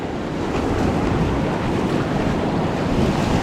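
Whitewater rapids on the Salmon River rush and crash around a raft in a steady, loud roar of churning water with wind buffeting the microphone, no voices.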